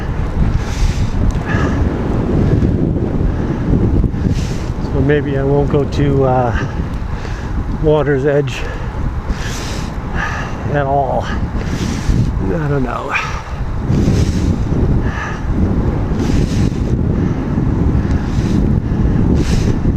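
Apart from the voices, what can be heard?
cold wind blowing at the shore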